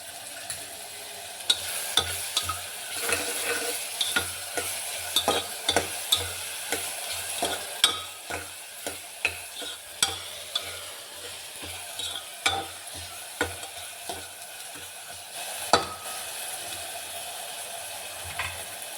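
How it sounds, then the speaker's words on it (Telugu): Onion pieces fry in a pan for a curry as salt goes in, a steady sizzle broken by repeated sharp scrapes and taps of a spoon stirring, close and alone without talk. "ఉల్లిపాయ ముక్కలు వేగాలి. ఇందులోకి ఇప్పుడు కొంచెం ఉప్పు వేస్తున్నాను."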